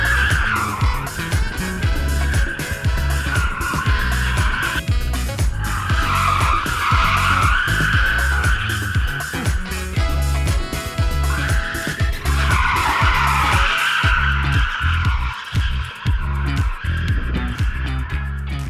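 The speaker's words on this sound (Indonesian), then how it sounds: "mobil ini gampang sekali diajak drifting" A 2023 BMW i4 eDrive40 electric car drifts with loud, sustained tire squeal in repeated long screeching waves, close and dominant throughout with gravelly rumbling underneath.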